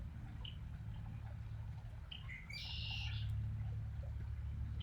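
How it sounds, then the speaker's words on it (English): A red-winged blackbird sings a short, bright phrase partway through, somewhat distant in a spring garden, over a low steady background hum. "That red-winged blackbird in the background is really having at it."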